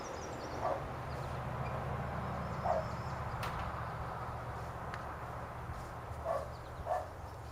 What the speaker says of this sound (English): Well, the dog's going crazy.